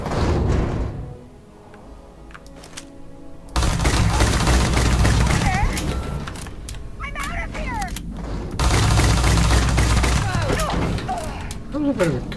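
Weapon fire in Starfield, dense bursts of shots and impacts in two loud stretches separated by quieter moments, with someone talking over the action.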